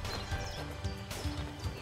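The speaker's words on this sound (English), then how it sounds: "These cattle walk easily with no apparent lameness or change in gait." Cattle hooves clopping steadily as the animals walk easily with a normal gait, a moderate rhythmic series of footfalls on firm ground, with no talking.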